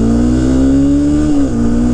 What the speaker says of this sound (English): I was full pin on the throttle, and I still only did 60